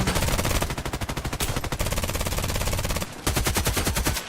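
AK12 assault rifle firing in the online shooter Contract Wars: loud, close, rapid automatic bursts rattling almost continuously, with a brief pause just past the three-second mark before firing resumes.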